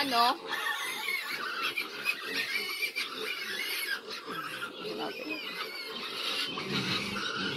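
Weaned piglets, about four weeks old, squeal continuously and loudly in a pen, high overlapping shrieks filling the whole stretch with someone speaking over them.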